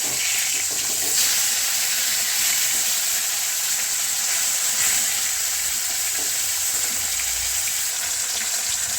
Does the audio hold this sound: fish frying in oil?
yes